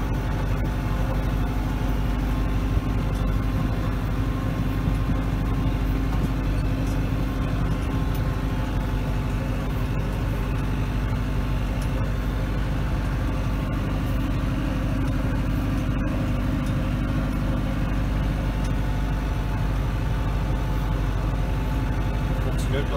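Branson 5025C tractor runs at a steady, even engine drone while dragging a riding arena in May, a continuous close rumble with no talking.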